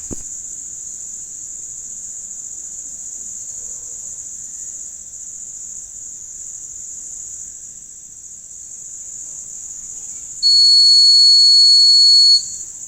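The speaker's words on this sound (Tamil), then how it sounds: "சென்சார் எப்படி வேலை செய்யுதுன்னு பாருங்கள். உடனே அலாரம் கொடுக்க ஆரம்பிச்சிட்டு" A constant high-pitched hiss-like tone runs throughout, then a loud piercing PIR motion sensor alarm tone suddenly starts near the end and holds for about two seconds.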